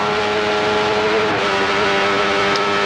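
An on-board Benelli 350cc racing motorcycle engine screams steadily at over 100 mph through the village of Kirkmichael during the 1993 Manx Grand Prix, loud and continuous with a slight shifting pitch, no voices.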